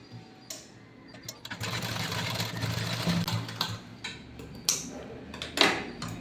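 A sewing machine runs steadily while stitching the shoulder of a blouse, a continuous mechanical whir with ticking between brief pauses and clicks, heard up close.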